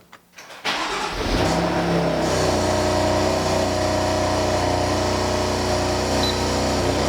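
After a brief quiet moment a BMW M3 (F80) engine cranks on a cold start and catches, then settles into a loud, steady high idle close by.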